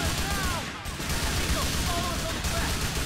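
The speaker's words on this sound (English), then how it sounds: "this gunfire and madness" Dense gunfire crackles in GTA 4 during a bank robbery shootout, a continuous loud barrage of overlapping shots and bursts with no break.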